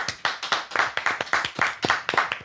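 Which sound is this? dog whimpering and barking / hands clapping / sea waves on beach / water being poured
hands clapping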